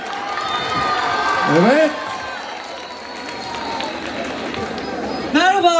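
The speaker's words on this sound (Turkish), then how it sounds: "Bu kadar mı alkışlar?" Outdoor festival crowd at a concert event cheering and clapping in a broad roaring wash, with whistles and shouts rising over it and a voice speaking briefly near the end.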